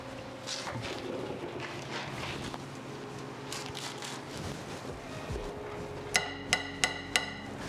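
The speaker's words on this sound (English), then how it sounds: "This is a bolt getting loosened up after being in there for way" Several sharp metallic cracks ring out near the end as a long-seized bolt breaks loose on a car's rear differential, standing out over steady background rumble and wind noise.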